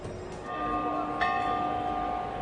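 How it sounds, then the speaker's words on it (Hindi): A bell rings out clearly with a sustained, ringing tone, struck about twice to open an India vs West Indies T20 cricket match, left to hum over faint background crowd noise. "अजीत अगरकर जो घंटी बजा के इन्होंने इस मैच का आरंभ किया है"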